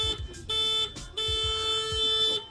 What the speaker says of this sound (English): I'm honking at everybody there.